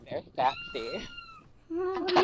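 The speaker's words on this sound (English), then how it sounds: "That's our cat" Pet cat meowing at home, a few tonal mews heard close, one longer drawn-out call at the end, mixed with people talking over it.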